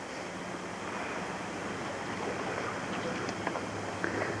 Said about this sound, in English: it's just a nice soft current as it goes into the Current River.